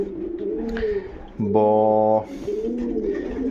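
A pigeon coos close by in a few soft, throaty phrases, with one louder rolling coo in the middle and a brief voice at the start.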